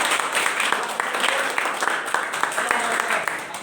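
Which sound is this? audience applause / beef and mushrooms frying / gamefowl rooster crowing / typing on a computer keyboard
audience applause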